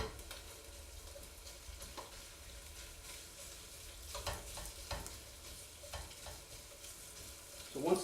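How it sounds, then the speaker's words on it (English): Sausage browning in shallow, bubbling oil gives a steady, fairly quiet crackle and hiss, broken by a few sharper scrapes and pops as the pan is stirred, with no one speaking. "Start to see the oil bubble, start to see the brown form in the sausage."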